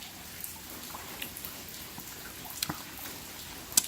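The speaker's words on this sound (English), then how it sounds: "So the rain's really nice." Rain falling beside a porch next to a wooded lot, a soft steady patter with scattered close drips and taps, faint and continuous with a sharper drop near the end.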